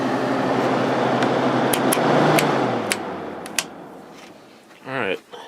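A vintage Kenmore (Whirlpool) 5,000 BTU window air conditioner running with a steady broadband fan whoosh and low hum, a few light clicks and knocks over it, and a short burst of voice near the end.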